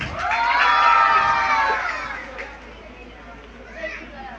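Crowd of children cheering and shouting at a school annual prize distribution ceremony, a loud burst of voices that fades over a few seconds, with scattered calls and speech.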